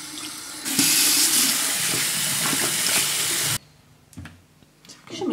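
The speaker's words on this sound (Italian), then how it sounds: "E la vado a sciacquare e poi ci metto i pennelli all'interno." Cloth being rinsed under a running sink tap before holding brushes, a loud steady gush of water for about three seconds, then it stops, leaving quiet splashes and wet handling.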